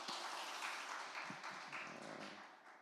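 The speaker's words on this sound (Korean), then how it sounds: "우리 박수 한번 하십시다." A church congregation at a Sunday worship service in Jeonju applauds after a special song, a dense, steady wash of many hands that slowly fades toward the end.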